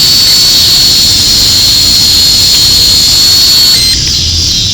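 A drone flying overhead gives a loud, continuous high-pitched whine with a rough broadband hiss beneath, holding steady before easing slightly near the end.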